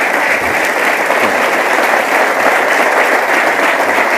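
An audience at a motivational talk applauds a survivor of the Andes crash, dense continuous clapping that stays loud and even throughout with no voices on top.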